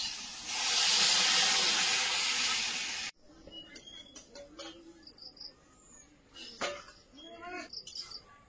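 Hot water poured into a pan of fried soybean chunks, potato and pumpkin gives a loud, broad sizzling hiss for about three seconds. It then cuts off abruptly to faint bubbling and small kitchen noises.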